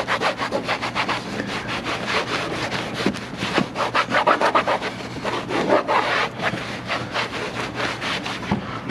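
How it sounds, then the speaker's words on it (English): Rag rubbed briskly over car interior surfaces with Shine Armor interior cleaner, close rhythmic scrubbing strokes repeating steadily without any voices. "you're just gonna kind of wipe off and buff the excess material off"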